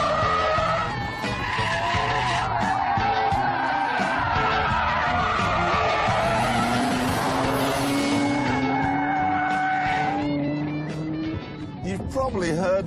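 A Noble M12 GTO cornering hard, tires squealing loudly in long sustained skids with engine tones rising and falling, mixed with speech and what sounds like music or commentary throughout.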